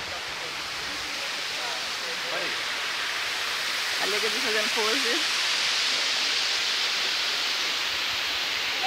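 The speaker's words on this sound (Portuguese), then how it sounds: "Claro, é uma outra cachoeira," A waterfall on the island of Ilhabela roars as a steady, loud rush of falling water, with people briefly talking over it.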